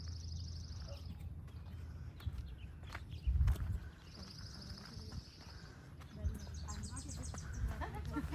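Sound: birds chirping in dense trees

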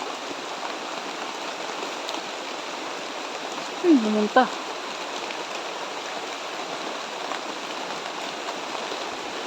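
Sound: heavy rain falling

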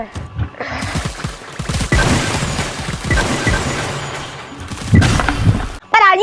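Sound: rapid paintball gunfire from the Roblox video game BIG Paintball 2

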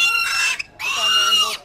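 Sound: small pig at a highland market

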